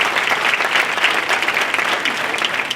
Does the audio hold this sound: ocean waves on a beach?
no